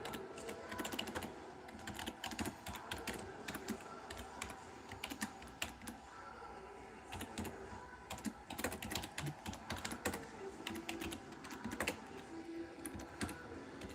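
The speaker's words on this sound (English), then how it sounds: "if you hear typing on the keyboard, it's me on my PC" Rapid clattering keystrokes on a home PC computer keyboard, continuous and close, with irregular bursts and occasional heavier key presses, no talking over it.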